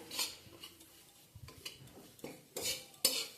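Metal utensil scraping and clinking in a pan while onions and chilli are stirred and fried over medium flame for chira pulao, with irregular knocks and scrapes near and fairly quiet, only a faint sizzle beneath.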